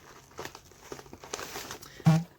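Taped packaging being pulled and torn off a cardboard box holding Hoya plants, a few scattered crinkles and rips ending in one louder close tearing burst, with no talk.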